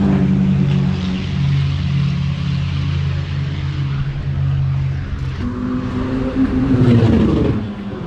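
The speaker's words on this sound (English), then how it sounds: "Now that is an engine." A powerful car engine idling low and rumbling, then revving up toward the end, loud and close with no talking.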